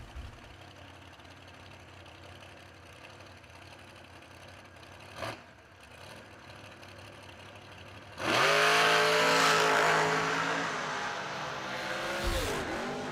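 The M&M Dragster from Parsonsburg, Maryland, sits at a drag strip under quiet ambient noise before its engine bursts into a loud, sustained roar that pitches up through the run and cuts off abruptly near the end.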